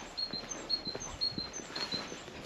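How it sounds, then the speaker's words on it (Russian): Small birds chirp and tweet repeatedly in a residential yard in Lazarevskoye, Sochi, in March, with high, thin calls scattered across a faint outdoor background. "Птички поют."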